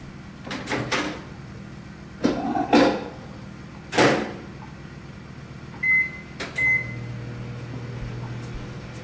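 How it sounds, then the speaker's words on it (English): A microwave oven hums steadily for about eight seconds while softening peaches, with doors and clicks around it, and a couple of short electronic beeps ring out near the end. "Put them in the microwave just for a little bit to soften it."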